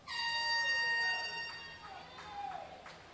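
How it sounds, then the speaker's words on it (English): A loud, sustained air horn blast signals the final round of a boys' high school swim race, ringing out for over a second, then fading into a noisy echoing natatorium with faint chatter. "Air horn signifying the final round."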